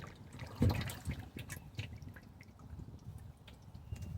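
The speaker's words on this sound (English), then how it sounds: "This water is wavy" Water laps gently on Talladega Creek, soft, faint irregular splashes and drips close by, with one slightly louder slosh near the start.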